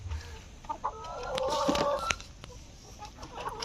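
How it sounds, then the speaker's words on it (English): Chickens clucking at a new chicken farm, soft overlapping clucks and calls rising in the middle, fairly near, with a faint rooster-like cry and scattered movement noises. "More chickens inside up there,"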